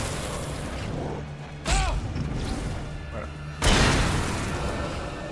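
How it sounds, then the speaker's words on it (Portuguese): Gunshots in the PC game Alan Wake: two heavy, booming blasts about two seconds apart, each loud with a short decaying tail, set over a low droning game ambience with no voices. "Deu um tiro no nada ali."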